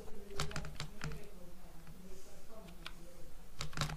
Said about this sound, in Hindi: मेरे को जो कैप्चा मिलेगा वो मैं कैप्चा यहाँ पर डाल रहा हूँ